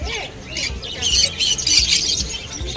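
Blue-yellow sided conure parrots at a Kolkata exotic bird market give harsh, repeated squawks and chirps close by, over a low background bustle.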